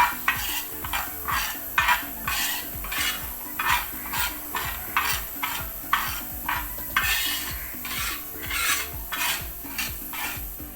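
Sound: dry-roasting wheat in a pan, stirring

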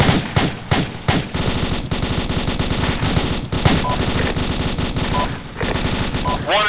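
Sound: gunfire in the video game Arma, Shack Tactical mission

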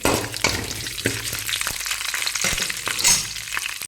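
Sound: curry leaves frying in a pan

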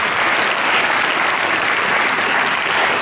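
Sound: audience applause for the conducting team

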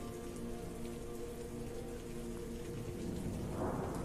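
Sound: rain falling

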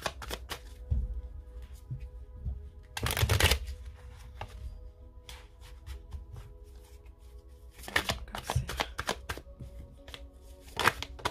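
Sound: shuffling tarot cards

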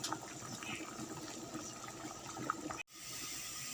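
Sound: rice boiling in a pot

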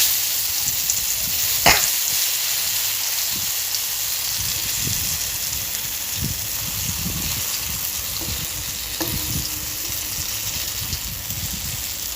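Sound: lentil fritters frying in oil

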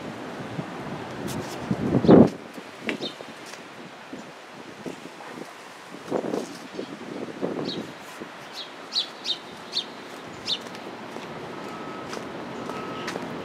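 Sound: birds chirping outdoors

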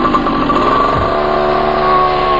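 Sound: engine-powered hang glider engine

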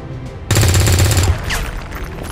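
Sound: gunfire from soldiers shooting at an officer in video game XCOM 2

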